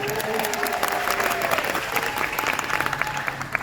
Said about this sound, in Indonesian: Segitu aja tepuk tangannya.